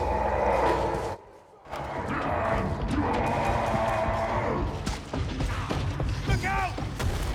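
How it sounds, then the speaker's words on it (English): A hulking mutant brute in Warhammer 40,000: Darktide roars and charges on pounding feet, with heavy thuds and crashing impacts over dense game noise and a short lull partway through. "These big brutes let out a huge roar and can then be heard pounding feet as they charge directly towards their prey"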